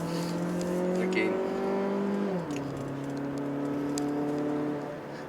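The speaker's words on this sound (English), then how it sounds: "So it's a nice sounding, buzzing engine." A Mazda 3 hatchback with a 1.5 litre engine pulls hard on a mountain road, a steady buzzing drone that rises, dips briefly with a gear change, then climbs again, loud and close throughout.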